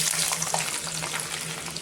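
Garlic frying in hot oil in a kadhai gives a continuous, even sizzle and crackle, close and steady throughout.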